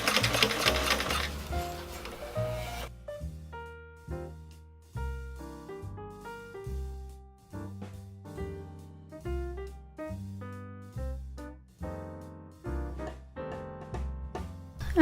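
A sewing machine top-stitches through thick corset binding, running in steady bursts of rapid stitching with short pauses between them, close and fairly loud with no talking.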